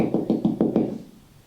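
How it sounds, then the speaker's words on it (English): Five quick, evenly spaced knocks on a door, close and fairly loud, followed by a short fading quiet. "Knock at the door."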